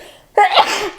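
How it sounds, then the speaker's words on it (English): A single sharp, close sneeze bursts out after a moment of near quiet, loud and breathy, then trails off into a short exhale. "I keep sneezing."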